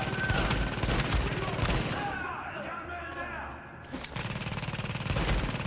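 Sustained bursts of rapid gunfire from The Division video game fill most of the stretch, dipping briefly in the middle before resuming loud and dense, with sounds that may be a person's voice mixed in.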